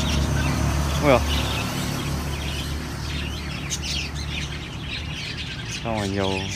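Small birds chirp and squawk in brief bursts near a bird and poultry stall at an ornamental plant, dog and chicken market, over constant traffic hum and people talking.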